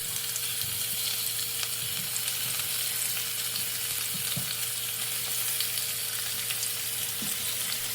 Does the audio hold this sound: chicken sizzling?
yes